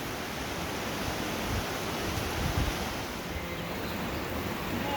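Heavy rain pours down on a sheep farm as a dense, steady hiss with soft gusty swells, close and unbroken, with no voices.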